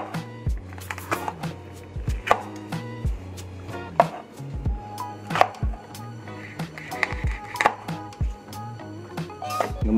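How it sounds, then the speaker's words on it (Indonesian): A knife chops ingredients for Uyghur laghman on a cutting board, a brisk irregular series of close, sharp knocks with brief scraping between strikes and no talk. "dipotong-potong dulu"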